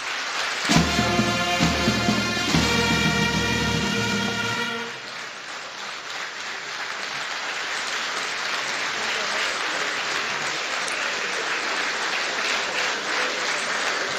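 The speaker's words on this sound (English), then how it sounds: "Another round of applause, please." Convention audience applauding, a dense sustained clapping that fills the whole clip, with an instrumental music swell underneath during the opening seconds before the clapping carries on alone.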